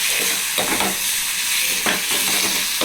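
Three slit small green chillies frying in hot oil in a pan for vada curry, a steady loud sizzle with scraping stir strokes at intervals, no talking.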